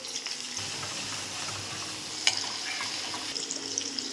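Green chillies and onion frying in hot oil in a home kitchen, a steady close sizzle with faint stirring scrapes and one sharp tap midway, no talking.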